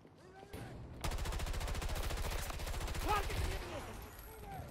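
Rapid automatic gunfire erupts in a Battlefield 2042 match, a loud sustained burst of evenly spaced shots that runs for several seconds over game ambience, with a few brief whoosh and impact sounds around it.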